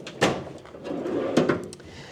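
A tool chest drawer slides open with a short scrape and clatter, followed by a second rattling slide, close and fairly quiet.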